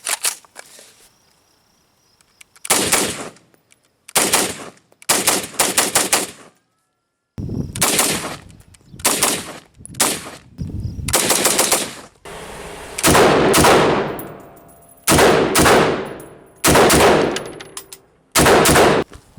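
IWI Tavor 5.56 rifle with an Aimpoint sight firing outdoors, loud sharp shots in quick strings and doubles with short pauses between groups, close to the microphone.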